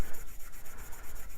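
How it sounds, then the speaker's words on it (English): Dry sanding against resin and wood spinning on a lathe gives a close, brief rasping rub with a quick pulsing texture. "When you're doing dry sanding"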